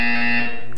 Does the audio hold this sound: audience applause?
no